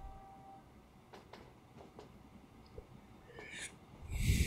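A train running on rails in the video game Train Fever gives off a quiet rolling rumble with several faint clicks, then a louder rushing swell at the end.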